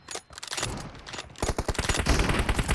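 Rapid bursts of gunfire in BGMI, the mobile battle royale game, including M24 sniper rifle shots: sharp repeated cracks in clusters, growing denser and louder in the second half.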